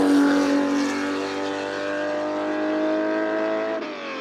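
Ferrari 250 GTO engine running steadily and loud, a sustained even drone with a slight pitch sag at the end; no talk.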